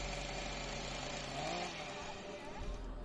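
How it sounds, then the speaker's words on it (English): Buzzsaws revving up in a video game make a dense, steady mechanical whirring drone, moderately loud and continuous throughout, with a low rumble underneath and slight swells in intensity. "That sounded like buzzsaws revving up."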